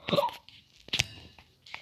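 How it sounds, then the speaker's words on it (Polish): A sharp hiccup bursts out near the start, followed by two more brief hiccup-like catches, faint and close, with no talk. "Przepraszam, czkawka."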